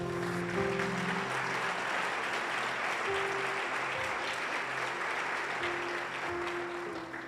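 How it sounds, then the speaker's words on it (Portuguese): A church congregation applauds steadily and loudly for several seconds, a dense wash of clapping with faint tones from an organ or keyboard held underneath. "Quem concorda com isso, diga amém e aplauda ao Senhor Jesus."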